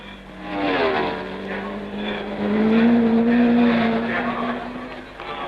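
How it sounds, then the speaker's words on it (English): A troubled Lotus 25 Formula 1 car at the 1962 Rouen-Les-Essarts race, its engine note rising and falling as it approaches and passes, mixed with a commentator's voice. "And here he comes with a sick Lotus 25."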